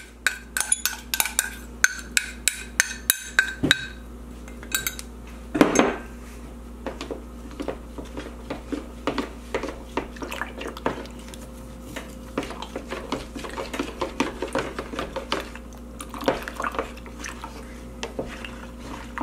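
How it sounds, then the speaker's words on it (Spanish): Cornstarch being dissolved in a cup of milk for leche frita, with a spoon clinking repeatedly against the cup in a steady run of light taps and scrapes, a few louder knocks early on, close and without talk. "Y voy a mezclar la fécula de maíz. La voy a disolver en la taza de leche que tengo acá."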